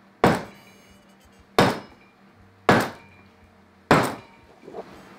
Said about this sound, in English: If you hear that knocking, that's the leather team upstairs banging with a hammer